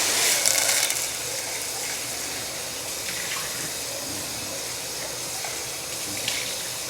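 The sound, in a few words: tap water filling a pot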